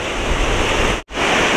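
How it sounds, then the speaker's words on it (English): Loud broadband rush of ocean waves and surf during rough boating, continuous and close, cut by a very brief dropout near the end. "That's ocean commotion."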